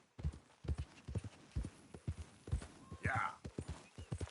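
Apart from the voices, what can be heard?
horse hooves in video game Red Dead Redemption 2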